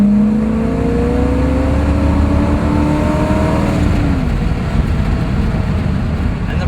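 A 1966 Corvette Stingray slowing hard from around 30 mph, its loud engine note dropping steadily in pitch as it decelerates, heard close from inside the car with continuous mechanical rumble and road noise.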